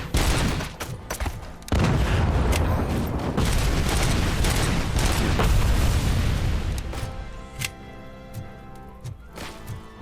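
Rapid gunfire and heavy explosions from grenades being shot in Robocop: Rogue City, dense and loud for several seconds, then thinning to scattered single shots and booms over a low background.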